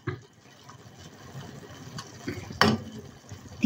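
Water or broth is poured into a pan of stir-fried kangkong, giving a faint, uneven splashing trickle with a sharper splash near the end, amid quiet kitchen noise.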